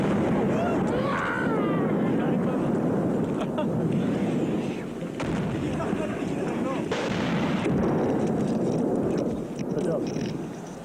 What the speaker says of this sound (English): By now, the enemy's artillery fire was sustained and occasionally uncomfortably